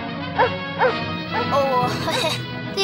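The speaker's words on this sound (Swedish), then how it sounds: "det är bara en sån där tv-vove som inte bits" Small dog yaps and whimpers from a television set in a Swedish family comedy, several sharp yips spaced about half a second apart over a steady background hum.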